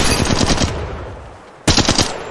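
Rapid automatic gunfire in the Apex Legends Mobile shooter game, two loud close bursts of fast repeated shots separated by a brief lull, with no talk.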